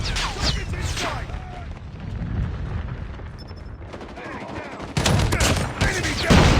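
Shotgun blasts in a tactical shooter game boom in rapid, overlapping bursts over a dense wash of battle noise, with a fresh volley of louder shots near the end.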